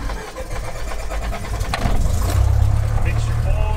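Cessna 172SP light aircraft engine starting: the starter cranks and the engine catches, building into a loud, steady, low rumbling idle heard from inside the cockpit.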